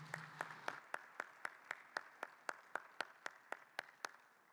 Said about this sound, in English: Please give another round of applause to all of our SMR vendors.